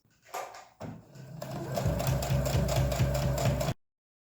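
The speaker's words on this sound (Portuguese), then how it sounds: "Agora é só ir lá na máquina e fechar esses 4 cantos." A sewing machine stitches closed the four corners of a fabric bag, its needle running in a fast steady rattle for a few seconds after brief handling noises, then stopping abruptly.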